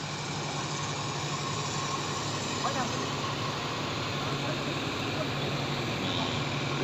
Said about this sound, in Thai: รถตัดอ้อยของ โรงงานน้ำตาลบุรีรัมย์ครับ